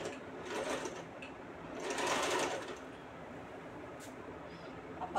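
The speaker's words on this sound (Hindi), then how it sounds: "मैं अब इसके शोल्डर के सिलाई कर रही हूँ" Sewing machine stitching the shoulder seam of a kaftan kurti, a close steady mechanical whir in two bursts, the second louder and longer, with brief pauses between runs and no talking.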